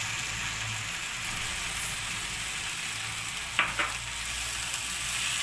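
Okra masala cooking in a pan with lemon juice added, a continuous bright sizzle with a brief pair of spoon scrapes partway through.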